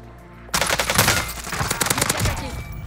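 Rapid automatic gunfire in Call of Duty Cold War, loud and close, erupting suddenly after a quiet start and continuing in fast bursts with sharp individual reports.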